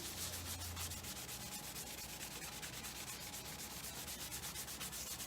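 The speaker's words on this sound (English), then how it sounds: "so I warmed it up and I'm buffing again" Steady rubbing of a cloth over a warmed wax ornament, a continuous fine buffing that goes on evenly for several seconds at a moderate level with no talking.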